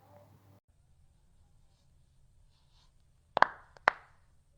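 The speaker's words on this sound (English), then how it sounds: "the sound comes from a quick release of gas bubbles in the joint, fluid, just like opening a fizzy drink" A chiropractic adjustment brings joint cavitation: after a quiet stretch, two sharp, close pops sound about half a second apart.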